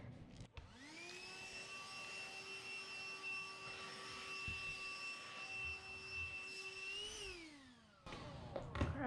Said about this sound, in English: Vacuum him up really quick.